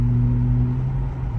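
A 2024 Nissan Z (RZ34) with downpipes, high-flow cats and an ISR single-exit exhaust, heard from inside the cab as a steady, close, deep idle rumble with no voices.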